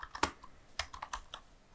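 Quiet, close typing on a computer keyboard while entering a Dell service tag, a quick uneven series of about eight light key clicks in under two seconds.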